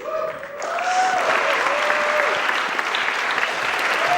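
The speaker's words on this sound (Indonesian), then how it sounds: "Tepuk tangan sekali lagi untuk Akbar" A live audience at an Indonesian stand-up comedy show claps loudly and steadily, with a brief voice at the start before the applause swells and holds.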